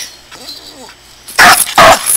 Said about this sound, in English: she'll continue to bark until I throw the stick